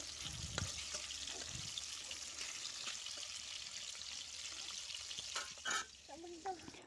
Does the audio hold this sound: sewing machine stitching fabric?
no